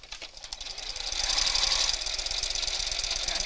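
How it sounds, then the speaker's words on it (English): A sewing machine stitches the other side of a strong join in rapid, continuous mechanical pulses, close and fairly loud, with no talking. "just sewing the other side of this"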